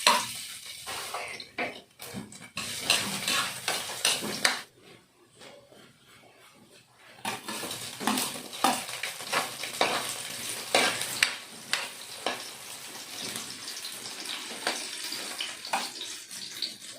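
Vegetables sautéed in a home kitchen pan, a steady frying sizzle broken by repeated scraping and stirring strokes, with a short quieter pause midway before the clatter resumes.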